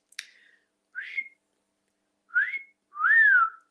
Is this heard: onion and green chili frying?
no